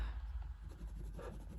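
Pilot Frixion pen scratching across paper in a quiet room, a soft close-up continuous scribble of short strokes, faint and steady with no voices.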